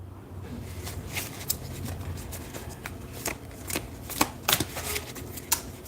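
Tarot cards being shuffled by hand: a steady papery riffle with sharp, close clicks and snaps that grow louder and more distinct toward the end, with no talking over them.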